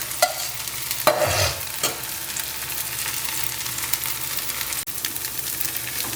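Rava dosa frying in ghee on a hot pan gives a steady, close sizzle, broken by a few short scraping stir sounds near the start, with no talking.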